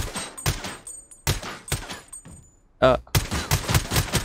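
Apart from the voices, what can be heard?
dual Glock gunfire in video game Blood Strike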